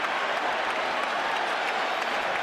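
Spectators at the Pacquiao vs Cotto boxing match cheer and applaud in a continuous, loud roar that fills the whole arena without a pause.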